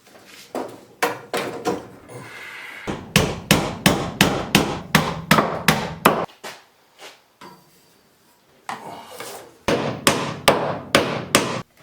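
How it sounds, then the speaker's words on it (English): Hammer driving nails into wooden floor joists to fasten PEX water pipe, a fast series of sharp, close wooden strikes in bursts with short pauses between, no talking. "All you do is just put a nail on each side, and this is what I'm going to be using to hold the PEX up against the floor joists."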